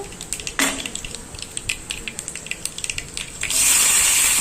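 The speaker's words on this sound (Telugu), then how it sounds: "ఆయిల్లో జీలకర్ర, ఆవాలు, పోపు దినుసులన్నీ వేసుకోవాలండి" Cumin and mustard seeds crackle and sputter in hot oil, a quick series of sharp sizzles and pops before a louder steady hiss takes over near the end.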